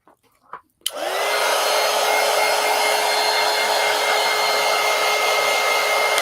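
After a couple of faint clicks, a hair dryer switches on and runs with a loud, steady whirring roar to dry a colored pencil page.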